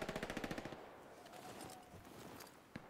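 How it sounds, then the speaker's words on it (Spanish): A rapid burst of automatic gunfire in Hell Let Loose at the start, about a dozen evenly spaced shots, followed by a faint game-like background hum and one distant shot. "Disparos."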